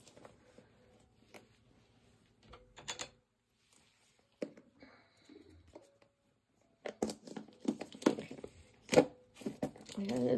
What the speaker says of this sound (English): sorry for the crinkling noises